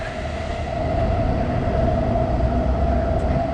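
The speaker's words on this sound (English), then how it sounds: "You guys can hear the train." A train rumbles steadily nearby at a Tokyo station with a continuous low roar and a sustained tonal hum, no voices over it.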